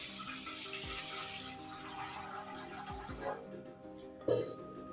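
Water poured into a pan set up for boiling tomatoes for chutney: a light, uneven splashing stream, fairly close and soft, ending with a brief clatter near the finish.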